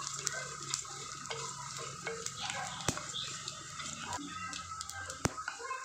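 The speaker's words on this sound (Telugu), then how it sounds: "కొద్దిగా ధనియాలు, జీలకర్ర, కొద్దిగా ఆయిల్ కూడా వేసుకొని వేయించుకోండి." Coriander seeds and cumin fry in a little oil in a pan, giving a faint, steady crackle with light stirring and occasional sharp clicks of a utensil against the metal.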